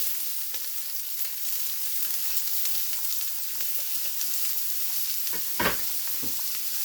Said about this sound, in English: saute our onions and saute our onions